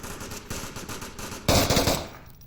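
Machine gun fire in the VR shooter Onward during a competitive match, with rapid bursts of shots, then a louder, closer burst that fades off.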